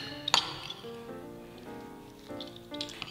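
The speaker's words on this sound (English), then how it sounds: "And we just stir that around." A spoon stirs beaten egg into an Italian sausage stuffing for sage leaves, giving soft wet mixing with light clinks against the bowl, one sharper clink near the start, fairly quiet and close.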